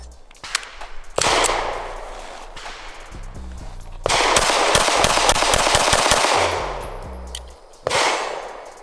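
Smith & Wesson Performance Center Shield EZ 9mm pistol fired in quick bursts, loud sharp shots in fast, even strings separated by short pauses, close and echoing.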